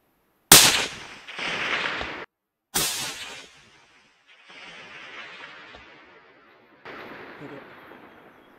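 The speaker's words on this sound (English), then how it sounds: "decided to take a shot at the hind" A rifle shot fired at a red deer hind about 400 meters off during a late-summer venison hunt cracks loudly and sharply, with a second report following. Rolling echoes and faint talk trail off after the shots.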